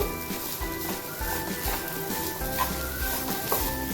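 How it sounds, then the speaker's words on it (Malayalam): Grated coconut heats in ghee in a pan, giving a continuous crackling sizzle with scattered pops and stirring scrapes, close and fairly loud, with no talk. "തേങ്ങ മൂക്കണ്ട ചെറുതായിട്ടൊന്ന് ചൂടായാൽ മതി ഇതെല്ലാം ഒന്ന് നെയ്യിൽ കിടന്നൊന്ന് ചൂടായി വരണം"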